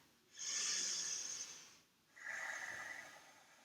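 Two slow, steady breaths during a seated yoga twist, a hissing inhale followed by a softer exhale, close and quiet with no talk.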